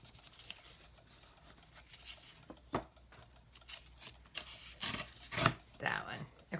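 Fabric being torn by hand into strips during a home sewing project, a few sharp ripping bursts with quieter rustling handling between them, close and moderately loud, no talking.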